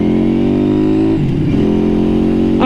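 A Street 500 motorcycle engine drones loud and close while riding, then the pitch drops and sags as second gear is missed, before the engine settles back into a steady hum.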